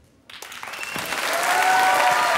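Studio audience applause for Solène, a child singer on a French TV talent show, swelling from a hush into loud, sustained clapping that grows steadily fuller and closer.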